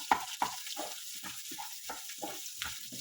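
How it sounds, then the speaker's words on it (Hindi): Onion and garlic frying in oil for a potato makhni curry, a soft steady sizzle under repeated scraping and stirring strokes from a spoon in the pan, close but fairly quiet. "ओनियन, गार्लिक, उसको हम लोग फ्राई करके सॉफ्ट कर लेंगे"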